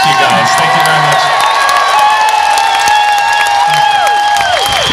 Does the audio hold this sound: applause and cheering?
yes